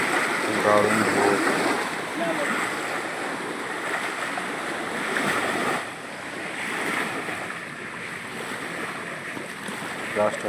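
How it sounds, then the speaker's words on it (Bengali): Sea waves roll and break steadily near a fishing spot where a line is being rinsed, with a continuous wash of surf and wind rumble throughout, close and fairly loud. "দারুণ ঢেউ, জানি না মাছ খাবে কিনা, এত ঢেউ হয়ে গেল।"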